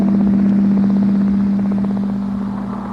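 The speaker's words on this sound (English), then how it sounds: "Tape recorders hummed, and occasionally there was the ping of a rocket thruster." Voyager spacecraft tape recorders humming, a continuous low drone with a faint rhythmic flutter, loud and steady throughout with no distinct thruster ping standing out.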